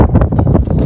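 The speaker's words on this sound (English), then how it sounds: "We're unfortunately blessed with the weather, which is windy." Strong outdoor wind buffets the microphone in gusty, rumbling bursts outside a home's entryway on a windy day, loud and close with no voices.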